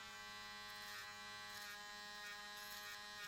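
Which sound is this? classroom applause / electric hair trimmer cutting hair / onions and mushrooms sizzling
electric hair trimmer cutting hair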